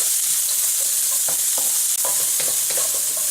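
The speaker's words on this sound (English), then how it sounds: "just want to stir fry all this until these vegetables become nice and soft and translucent" Vegetables and green onion stir-fried in a wok give off a loud, steady hiss of sizzling, broken by scattered scrapes and clicks as the food is tossed and stirred.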